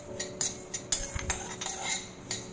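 Mustard seeds and fenugreek are dry-roasted in a pan and stirred with a metal spoon, giving quiet, irregular clinks and scrapes with no voices.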